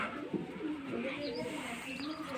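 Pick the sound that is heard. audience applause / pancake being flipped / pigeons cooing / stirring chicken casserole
pigeons cooing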